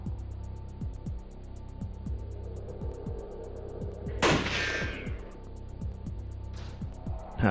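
GoldenEye on the Nintendo 64 with rapid, regularly spaced gunshots over a steady game hum, followed by a louder burst around the middle and another shorter one later.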